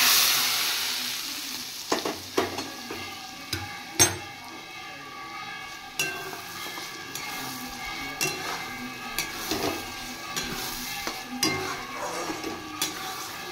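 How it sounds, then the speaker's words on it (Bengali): Fried potatoes being sautéed with spice paste in oil in a home kitchen: a steady low sizzle broken by sharp scrapes and knocks of a spoon stirring in the pan, close up, with no talking. "এবার আলুটা সহ আমি মশলাটা একটু কষিয়ে নেব"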